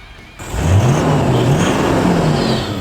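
A Toyota LandCruiser 200 Series 4WD engine fitted with a DIY performance exhaust revs up sharply and holds a deep, throaty roar with rising and falling pitch, close and dominant throughout.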